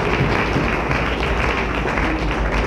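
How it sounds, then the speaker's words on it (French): A church congregation applauding during a sermon gathering, loud continuous clapping filling the whole moment with steady dense crowd noise and no pause. "Au nom de Jésus, on applaudit Seigneur."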